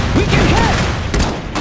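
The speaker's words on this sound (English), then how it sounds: "They're shooting!" Loud, dense gunfire from the Iron Harvest 1920+ strategy game, a continuous rattle of shots and booms, with a voice calling out over the battle.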